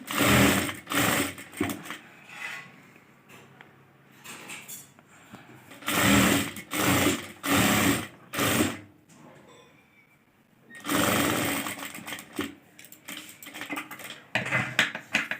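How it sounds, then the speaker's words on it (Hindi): Sewing machine running a straight seam on dress or kurti fabric, in several loud bursts of rapid mechanical stitching separated by brief pauses, close up with no talking. "सीधी लाइन पे इस तरह से एक बार सीधी सिलाई कर देनी है।"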